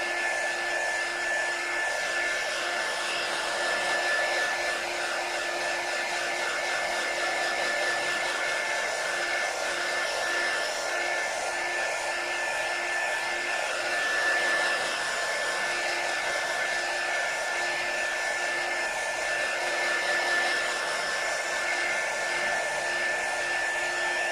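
Hair dryer blowing steadily on paste over an eraser board, a constant close whir with a faint tonal whine and no pauses.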